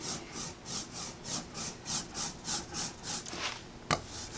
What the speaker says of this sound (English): we're just going to continuously go back and forth. And you can hear that sound.